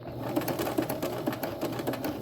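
A sewing machine runs steadily, stitching boning onto the edge of a fabric piece, a close, even mechanical whirr with a rapid repeating needle clatter and no voices.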